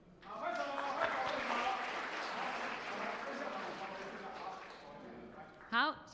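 Children and a church congregation clap together during a Sunday worship service, a dense, steady patter of many hands filling the hall for several seconds, with voices mixed in and a brief louder voice near the end.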